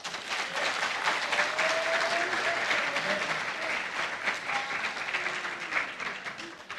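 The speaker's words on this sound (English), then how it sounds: "Please clap for them." Steady, loud applause from a crowd at a school quiz competition, continuous clapping filling the whole stretch without pause.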